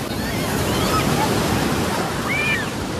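High ocean waves break and wash along Puri beach in Odisha, a loud continuous roar of surf mixed with wind buffeting the microphone, close and steady.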